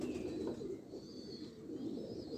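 Soft, low pigeon cooing hums quietly in the background, a murmur of several birds with no talking.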